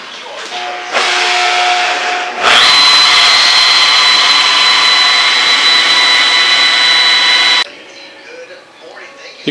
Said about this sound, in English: buff so the buffing pad is coming off the edge of the panel